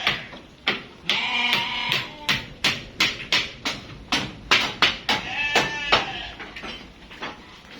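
A young female F1 Awassi sheep, about five to six months old, bleats repeatedly in short, rhythmic calls close by, with brief pauses between cries.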